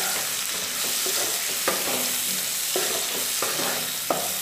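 Masala with red chilli powder and slit green chillies is stirred in a hot pan for a light fish curry, a constant loud sizzle with several sharp spatula scrapes and knocks against the metal.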